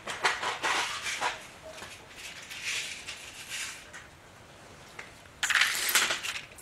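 Grade 8 steel bolts clink and rattle as they are handled up close. Metallic jingles come in several bursts, with a louder jumble near the end over a quiet background.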